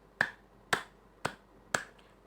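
A classroom of grade 4 and 5 pupils claps a counted rhythm together, four sharp unison claps spaced about half a second apart, crisp and close with no voices over them.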